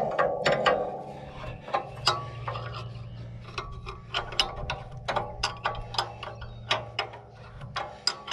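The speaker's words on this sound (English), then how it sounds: "And then you tighten your bolt up." Wrench ratcheting while tightening a down-pressure adjustment bolt on a corn planter outdoors, a steady run of sharp metallic clicks in irregular bursts over a low background hum, close and fairly loud.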